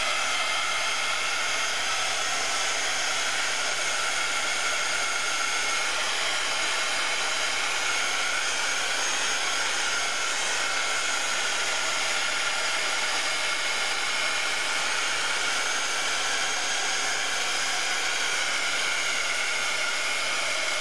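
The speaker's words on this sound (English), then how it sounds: "I'm gonna use my heat tool to dry this, so it's gonna make a little bit of noise" Heat tool blowing steadily to dry watercolor paint, a continuous airy whoosh held at an even, moderate level from start to finish with no speech.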